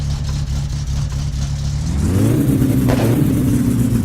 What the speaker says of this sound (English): I think we were revving a little too high.